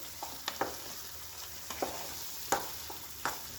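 Mashed brinjal for ringan nu bhartu is stirred in a frying pan, a low sizzle beneath repeated scraping taps of the spoon against the pan, coming in quick irregular strokes.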